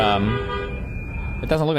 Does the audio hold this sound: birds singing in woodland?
no